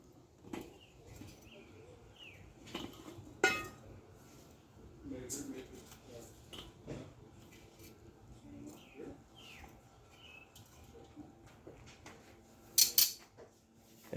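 Metal clinks and scrapes from a backyard grill as its grate is handled and set back on after a brisket is prepared, with a few scattered sharp clanks and a closing rattle, heard alongside some talking.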